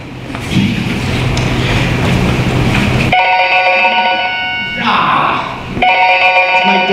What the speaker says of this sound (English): It's my dad's ringtone.